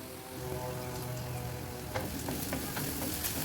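Ingredients sauté in a hot pan for a Lebanese stuffed potato dish, giving a steady, close sizzle and crackle with a few sharper pops and stirring taps, and no voices.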